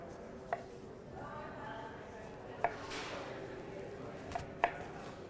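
A knife cuts thin slices of lemon for seasoning fish, giving four sharp, separate clicks of the blade striking a cutting board, spaced irregularly over steady low background hum in a test kitchen.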